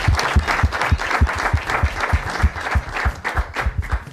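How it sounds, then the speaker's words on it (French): A studio audience at a French football talent show claps loudly and steadily, a dense wash of hand claps filling the room from start to finish with no voices standing out. "On applaudit très fort pour lui, l'intelligence."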